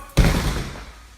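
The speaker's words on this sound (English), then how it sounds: "hurries over and slams the door open wider, hoping to catch the squatter" A door is slammed open with a single sharp, loud impact, followed by a short booming rumble that slowly dies away in a quiet indoor space.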